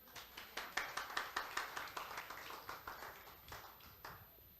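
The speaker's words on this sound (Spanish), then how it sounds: "Gloria a Dios, denle un aplauso a Cristo." A church congregation applauding, with quiet, sustained clapping from many hands that rises and then tapers off, heard at some distance without speech.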